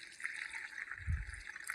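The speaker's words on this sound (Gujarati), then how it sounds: "પાણી ભરે છે તે હવે પોપમાં" Water is poured into a pot in a short, quiet splashing and trickling burst, faint and close, with a brief low gurgle partway through.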